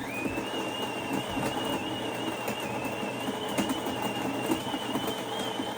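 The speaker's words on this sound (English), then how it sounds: "With the Explore, we have a grinder that peaks around 68 decibels." A Delonghi Eletta Explore bean-to-cup coffee machine grinding beans, a steady, fairly quiet whirring hum with a constant high whine, running without a break and with no talk.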